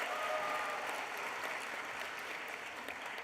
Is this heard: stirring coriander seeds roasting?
no